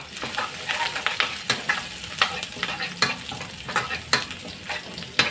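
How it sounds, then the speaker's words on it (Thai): Chopped garlic sizzles and crackles in a hot oiled wok, with repeated scraping stirs of a utensil at close range. "ผัดกระเทียมให้หอมจ้า"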